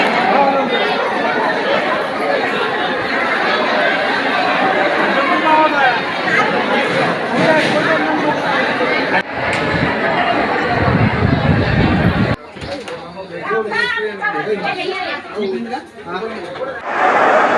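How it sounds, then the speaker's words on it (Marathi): A large crowd chatters at the Nevasa tehsil office during a Sanjay Gandhi scheme camp, a loud, dense babble of many overlapping voices. It thins abruptly near the end into nearer, more distinct talk. "तहसील कार्यालयात मोठ्या प्रमाणात गर्दी झाली होती"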